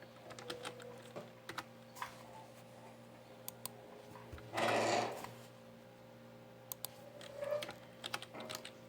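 Fingers type on a computer keyboard in a quiet room, a loose run of soft clicks and taps, with a longer burst of noise midway and clustered keystrokes toward the end.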